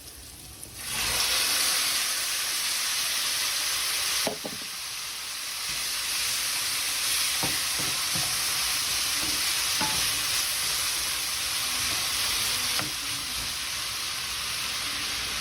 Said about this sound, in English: before I go ahead and put the hearts back into the pan